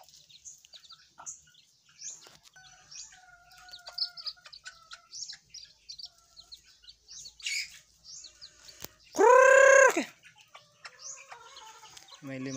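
Chickens cluck and chirp in short, scattered calls nearby, with one loud, drawn-out squawk near the end.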